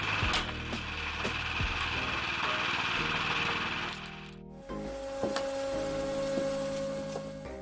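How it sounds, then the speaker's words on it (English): Automatic firewood cutting and splitting machine running, a steady mechanical engine drone with sharp knocks and cracks of wood, the tone shifting midway as the machine changes action. "let me introduce you to this amazing automatic wood splitting machine"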